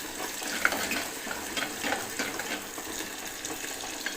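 Chopped onions fry in a pan for an egg curry, giving a steady, close hiss dotted with small crackles and pops throughout, with no voices.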